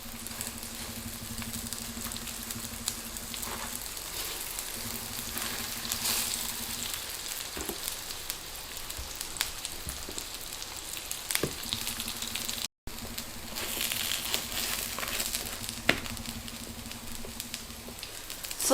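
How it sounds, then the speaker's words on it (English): Bread frying in oil in a pan, a steady, quiet crackling sizzle with scattered pops throughout, alongside a faint low hum. "Now into a pan, add some oil and put the bread that you prepared and cook on both sides until golden brown."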